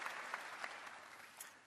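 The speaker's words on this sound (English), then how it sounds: "Let's give Ray a round of applause, everybody." A Cisco Live 2024 conference audience in Melbourne breaks into applause, a soft, continuous patter of many hands with a few louder claps standing out, heard at a distance.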